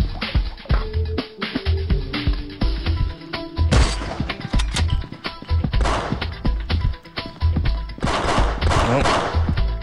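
Gunfire in the mobile shooter Pixel Gun 3D during a 1v1 match with pistols and sniper rifles: dense, continuous rapid shots and impacts that stay loud and close throughout, with no pauses.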